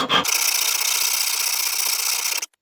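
A soft nail being hand filed into a spike, one long continuous rasping stroke of the metal file, close and loud, following a brief scrape at the start.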